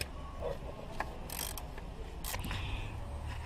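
A 13 mm wrench works the timing belt tensioner on a Renault 1.5 dCi engine, giving a few close metallic ratchet clicks and brief scraping taps over a low background hum.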